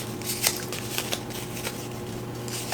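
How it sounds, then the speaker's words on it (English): Cards riffle and flick softly in quick, uneven bursts, the papery shuffling close up and quiet over a faint steady hum. "shuffle your cards"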